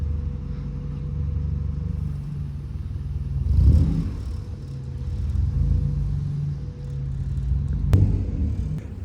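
A Honda Civic is driven during a driving test: a low, steady engine rumble with a brief rise in revs midway and another short surge near the end, and no speech.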